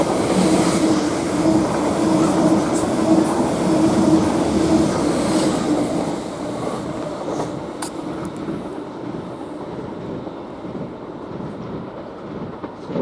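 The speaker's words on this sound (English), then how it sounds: "we've got another train coming in, which is the passing train from London Liverpool Street to Norwich" A Greater Anglia class 745 train running from London Liverpool Street to Norwich passes through Chelmsford station with a loud, steady rail rumble and wheel noise that eases after a few seconds and then holds as a softer roll.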